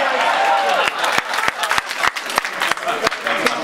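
Audience clapping at a Jefferson Jackson awards event, a fairly loud spread of hand claps with sharp individual claps standing out near the front, mixed with crowd murmur from start to finish.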